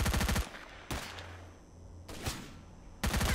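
Gunfire in the S.T.A.L.K.E.R. video game: loud bursts of automatic fire open and close the stretch, with another sharp shot in between and quieter gaps between them.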